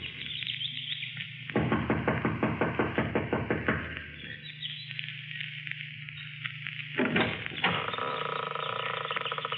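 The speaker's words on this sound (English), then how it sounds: "gets out of the car, runs up the steps of the lodge to the front door. She knocks impatiently," A rapid series of impatient knocks on a lodge's front door comes in two bursts, close and fairly loud, over a hum of background sound.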